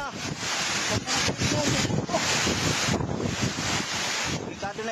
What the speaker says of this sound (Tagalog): Tila galit na galit ang hangin na may kasamang ulan